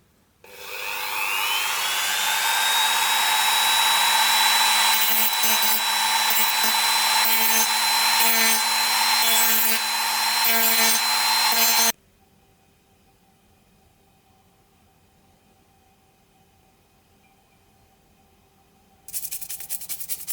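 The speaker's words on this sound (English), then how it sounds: "I will use a Dremel to sand off the imperfections." A Dremel rotary tool sands imperfections off the grips of a white Xbox One Elite V1 controller, a steady high-pitched whine with gritty rubbing for about eleven seconds, then stops, with a brief burst of noise at the end.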